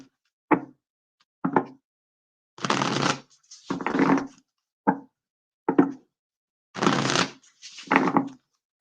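Tarot cards are shuffled by hand in a quiet room: sharp taps and knocks alternate with longer riffling bursts, in an uneven rhythm of about a dozen close, distinct sounds.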